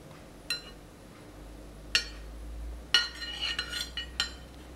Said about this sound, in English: I think we should mix now.